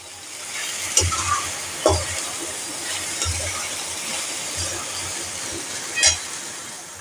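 Cabbage curry stir-frying in a pan over a high flame, a steady loud sizzle with periodic scraping thumps from the spatula every second or so.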